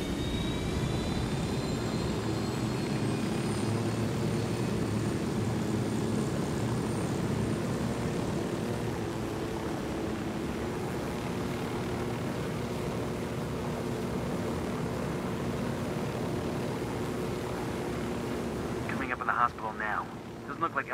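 A steady aircraft engine drone from the video game Ghost Recon Wildlands, a continuous loud hum that stays even throughout, with a short clatter of other noise near the end.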